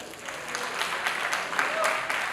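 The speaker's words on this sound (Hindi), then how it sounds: "Let's clap." Audience clapping at a corporate event at a Marriott hotel, a steady dense patter of many hands continuing throughout at moderate level, with a voice faintly talking over it.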